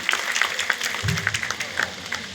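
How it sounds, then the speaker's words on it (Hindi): A small gathering at a talk about anganwadi helpers gives a brief round of applause, with scattered, sparse hand claps ringing out fairly close by and a voice speaking faintly. "एक बार फिर से जोरदार तालियां संध्या जी के लिए"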